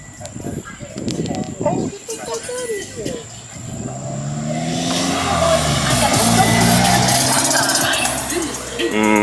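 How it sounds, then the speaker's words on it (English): A really cool car arrives, its engine rising in loudness and droning with steady revving tones in the second half, after people talk near the start. "somebody stopped by with a really cool car"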